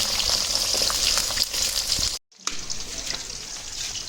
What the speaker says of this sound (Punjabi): ਇਹਨਾਂ ਨੂੰ ਫਰਾਈ ਕਰਾਂਗੇ ਸਾਰੇ ਟਿੰਡੋ ਨਾਲ ਜੀ ਆਪਾਂ ਇਸ ਤਰ੍ਹਾਂ ਫਰਾਈ ਕਰ ਲਾਂਗੇ ਚੰਗੀ ਤਰ੍ਹਾਂ